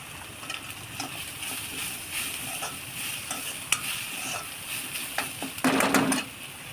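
Fresh grated coconut roasting with coriander stems in a pan, a soft continuous sizzle broken by scraping stirs, with a louder clatter of stirring near the end.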